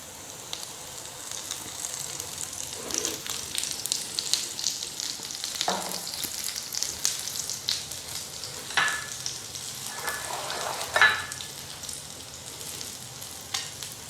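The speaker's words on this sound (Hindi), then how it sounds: "वो बहुत ही धीमी आंच पे, बहुत ही हल्के हाथों से इसको फ्राई करना है।" Egg-bound kebabs frying gently on a very low flame, a continuous soft sizzle with occasional louder crackles and spatters from handling, close by and without talk.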